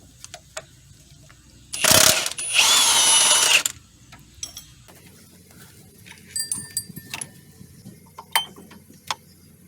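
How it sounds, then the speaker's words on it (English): A 10mm motor mount bolt comes out of a Honda Accord 3.5: a loud powered ratchet or drill whirs in two bursts near the start, followed by softer metallic clicks and tool handling. "This bolt here for the motor mount is on the way for this pulley to come out, so I'm gonna go ahead and take it out"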